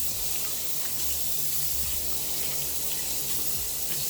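Tap water runs steadily to wet a makeup sponge before soaping it, a continuous close hiss of flow into a sink with no speech.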